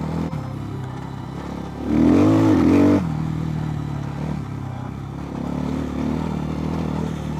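A Templar M four-stroke motorcycle engine runs close by with a steady, throaty idle that swells briefly into a louder rev before settling back to a low rumble.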